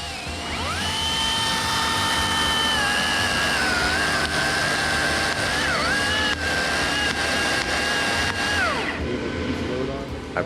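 A saw cuts through a limb of an oak tree being removed by crane, a loud high steady whine with slight pitch dips under load that holds for about eight seconds, then winds down.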